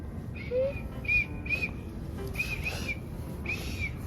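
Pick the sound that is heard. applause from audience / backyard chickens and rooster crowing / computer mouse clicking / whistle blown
whistle blown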